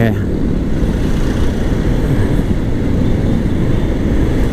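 Road traffic in Mabalacat at dusk, a dense continuous roar of cars and motorcycles passing nearby, loud and steady, with a voice talking faintly over it.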